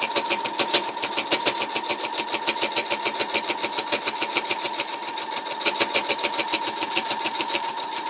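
A sewing machine stitches a fabric pocket bow, its motor running in a close, steady, rapid rhythmic chatter with a constant hum throughout.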